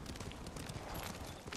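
Horse hooves clip-clop in a quick, steady rhythm as a rider travels in the game Ghost of Tsushima near a whaling village, faint and even with low rumble beneath.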